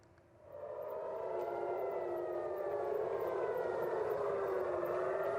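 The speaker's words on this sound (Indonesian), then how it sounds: "Iran terus menggempur Israel dan membuat sirine peringatan meraung di seluruh penjuru" Air raid warning sirens wail across Tel Aviv, rising in after a quiet start into a loud, sustained, layered howl of several overlapping tones that hold steady throughout.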